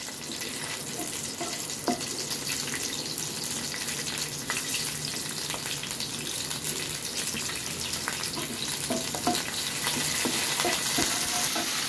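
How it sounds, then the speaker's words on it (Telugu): Curry leaves dropped into hot oil: a bright, continuous spitting sizzle with scattered sharp pops and stirring scrapes, close and fairly loud, building slightly toward the end, with no talking. "ఇప్పుడు కరివేపాకు వేసుకుందాం"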